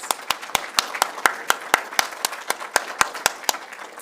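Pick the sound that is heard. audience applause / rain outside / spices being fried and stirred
audience applause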